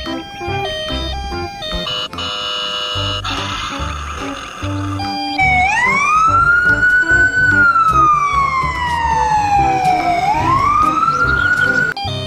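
Tinny electronic toy music gives way to a loud, rising and falling siren wail from a toy ambulance, played close and continuously.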